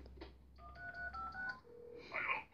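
Telephone keypad dialing tones for a prank call, a quick series of short beeps followed by a brighter ringing burst, close and clear with no talk.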